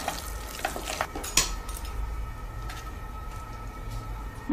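Orange pulp being stirred in a pan, with soft scraping and clinks of a utensil against the pan over a low steady background hiss, fairly quiet.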